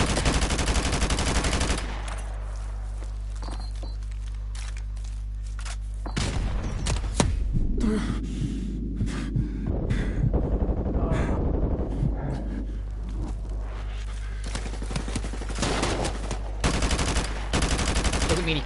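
Rapid automatic gunfire and booming shots from an allied soldier in the Call of Duty 4 Modern Warfare campaign, dense loud bursts with a steady hum of game ambience, continuing across the whole scene.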